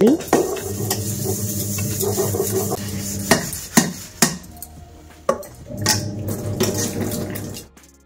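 Baby bottles being washed at home, giving continuous clinking and scrubbing with sharp knocks of plastic and utensils against each other, close and busy throughout, with no voices.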